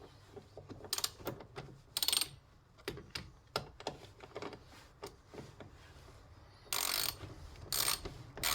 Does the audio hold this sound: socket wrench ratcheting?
yes